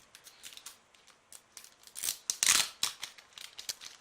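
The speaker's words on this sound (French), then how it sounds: "Et qui a beaucoup de peine à s'ouvrir." A battered Pokémon Platinum Rising Rivals booster pack is torn open with difficulty in a string of sharp, crisp foil rips and crinkles that peak loudly midway, close to the microphone with no talk.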